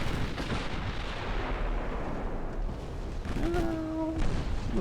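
Artillery firing in a strategy game's Imperial Austrian campaign, layered into constant booming battle noise, with thin whistling tones rising near the end.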